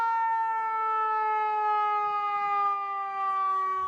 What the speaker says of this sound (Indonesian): di sini juga ada mobil ambulan